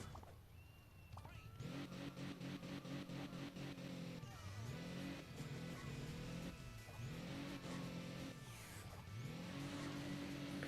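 A muscle car in Hill Climb Racing 2 accelerates from a standstill, its engine repeatedly revving up in rising whines that drop and climb again through gear shifts, steady and fairly loud with no talk.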